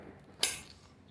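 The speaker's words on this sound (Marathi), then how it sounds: "त्या आता आपण कापून घेऊया देटाकडचा भाग आहे तो आपण कट करून घेणार आहोत" A kitchen knife slices off the stalk end of a small bell pepper, one short crisp snap of a cut that stands out sharply against near silence.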